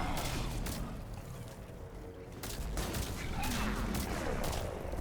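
Gunfire in the Mass Effect 3 video game, a busy spread of repeated shots and sharp bursts over a continuous combat din, with no clear talk on top.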